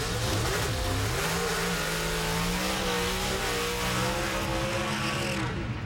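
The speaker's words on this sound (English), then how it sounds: "Nice burnouts." Pro Stock drag cars doing burnouts at the 2011 NHRA Gatornationals in Gainesville: a loud, sustained engine roar close by that rises and holds steady in pitch for the whole stretch, with no talk.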